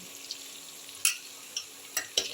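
Spiced yogurt batter with cumin, coriander and chili powder hitting hot oil in a pan for Bengali doi rui: a quiet steady sizzle broken by a few sharp spattering bursts.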